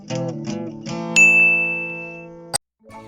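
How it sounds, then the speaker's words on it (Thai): A bright notification bell chime rings out over a short melodic jingle with a sustained ringing tone, ending in an abrupt final clang, then quiet. "กดกระดิ่งแจ้งเตือนด้วยเด้อ"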